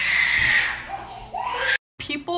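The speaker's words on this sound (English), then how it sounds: "They're screaming." Children scream loudly and shrilly in overlapping bursts, close by, with a short break before more yelling.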